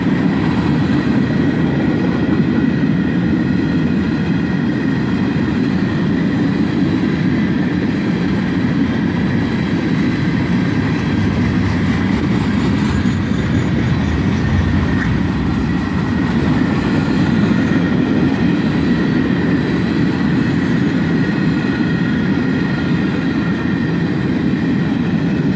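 Empty flat cars on a CSX freight train roll by near and loud, a continuous rumbling roar with rhythmic wheel clatter over the rails and no voices.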